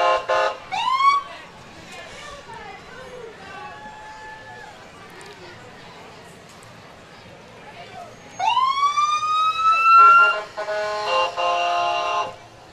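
An ambulance siren at the Bakersfield Christmas Parade wails in rising and falling sweeps with electronic yelps and chirps, loud and close in bursts at the start and end, quieter between.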